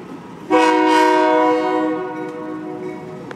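A Union Pacific freight locomotive sounds its horn once, a loud, close, sustained chord blast lasting over a second before fading, with the train rumbling faintly underneath.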